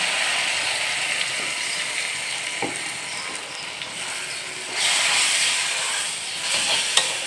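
Dried fish (shutki) sizzling and being stirred with spices in a hot pan, a steady frying hiss with scraping clicks from the spoon, growing louder toward the end, with no talking.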